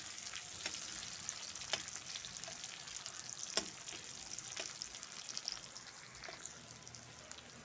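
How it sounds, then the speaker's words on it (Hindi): Onions fry in a pan for an aloo capsicum sabzi, a soft, even sizzle heard faintly throughout with a few light stirring taps scattered across it. "उसके बाद प्याज डालेंगे। अब इसे हम 2 मिनट भून लेते हैं।"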